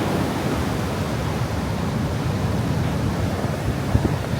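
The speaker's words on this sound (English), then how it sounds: "I'm just waiting this wave to come in." Sea waves roll and wash steadily onto the shore at Spekes Mill, a broad, loud, even roar of surf with a slight swell near the end.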